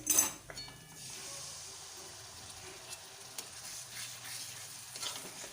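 Sour yogurt goes into a spice masala frying in a pan, giving a faint, low sizzle under quiet scraping and an occasional light clink of a stirring utensil.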